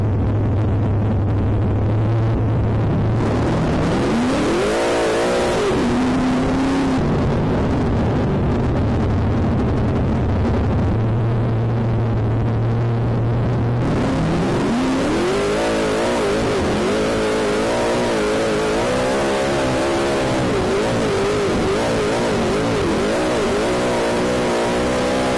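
A D26 race car on a track, its engine revving loud and close, rising and falling through the gears in a steady, continuous roar with no talking.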